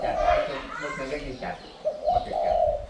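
A spotted dove coos in low, repeated notes close by, with people talking over and between the calls.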